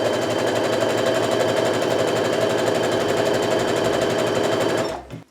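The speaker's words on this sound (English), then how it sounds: "I'm just going to keep on sewing until I've sewn all the strips together along the width of the fabric" A sewing machine stitches quilt fabric strips together in one loud, rapid, steady run of needle strokes close up, then slows and stops near the end.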